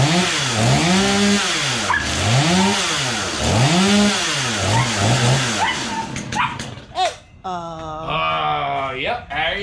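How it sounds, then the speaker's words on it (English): A steel chainsaw cutting storm-damaged wood revs up and down in repeated surges, loud and close, then sputters and idles while a dog whimpers and yips nearby. "Steel chainsaw in action"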